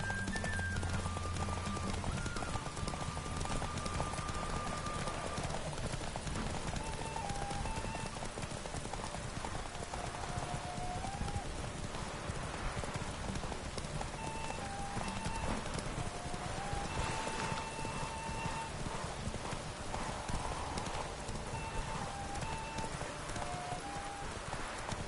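Roach the horse gallops in The Witcher 3, rapid rhythmic hoofbeats running continuously under quiet game music and ambient wash, fairly faint overall.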